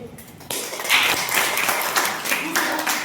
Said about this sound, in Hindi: तो एक बार इसके लिए जोरदार ताली होना चाहिए